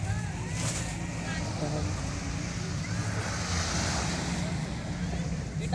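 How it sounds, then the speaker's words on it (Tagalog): Sea waves wash steadily onto a crowded swimming beach at Calayu, Nasugbu, Batangas, a continuous broadband surf roar with wind buffeting the microphone and faint voices of people in the background. "dito na kami sa dagat"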